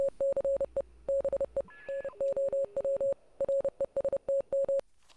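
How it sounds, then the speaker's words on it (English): Morse code tones crackle through a radio tuned to a strange frequency in Oxenfree, short and long beeps pulsing in an irregular rhythm, loud and close, with a brief pause and a lower tone partway through. "It's just Morse code."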